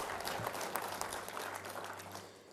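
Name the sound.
audience clapping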